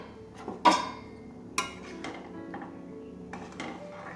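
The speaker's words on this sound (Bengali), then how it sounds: "1 মিনিট ফোটার পরে ঢাকনা খুলে দেখব।" A metal lid comes off a pot of simmering lentil dal with a sharp clank, followed by a second knock and softer clinks of cookware in a quiet kitchen.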